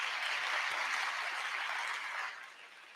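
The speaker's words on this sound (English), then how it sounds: "A huge round of applause for the Amal team" A large audience at a graduation ceremony in Lahore claps in a dense, sustained round of applause that stays steady, then eases and fades toward the end.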